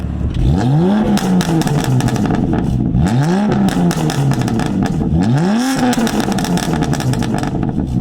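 A BMW F80 M3 on Bootmod3 burble tune at maximum aggression and duration revs three times, each rise falling into a loud, close, crackling run of pops and bangs from the exhaust, with no talking.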